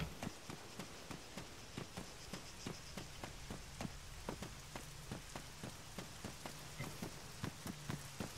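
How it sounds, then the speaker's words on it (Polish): Steady rain falls in the ARMA III game world of Altis, a dense patter of drops striking surfaces with sharp, evenly spaced ticks over a soft, continuous wash, moderately quiet and with no voices. "No też pada i mnie denerwuje trochę."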